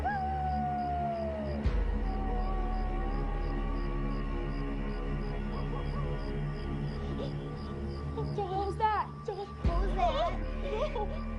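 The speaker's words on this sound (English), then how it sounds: "we started to hear wolves howl" Wolves howl in the wild with long, wavering cries, one sliding down at the start and others rising later, over a steady low background hum.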